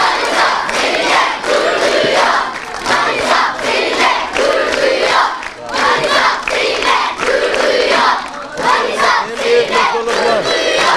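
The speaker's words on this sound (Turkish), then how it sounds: "çocuklar Manisa seninle gurur duyuyor tezahüratlarıyla karşılarken" A group of children at a summer school chants in unison to greet a visiting mayor in Manisa. The shouted chant is loud and close, with rhythmic repeated phrases and brief dips between them.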